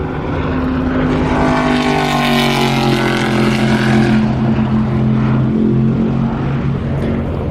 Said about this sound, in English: Corvette on its own.